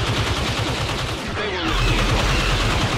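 Rapid turret gunfire in a Star Wars strategy game, a dense, steady stream of overlapping shots and blasts that stays loud and close for the whole stretch, layered with other battle noise.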